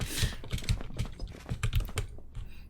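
Fingers type quickly on a computer keyboard nearby, producing a dense run of sharp key clicks and heavier thumps with no voices.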